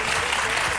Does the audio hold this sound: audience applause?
yes